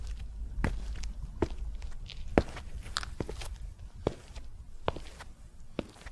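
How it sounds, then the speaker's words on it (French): Footsteps on stairs, one step after another, land as sharp, fairly close thuds in an uneven rhythm over a low, steady room hum. "le bruit d'une marche, une marche après l'autre"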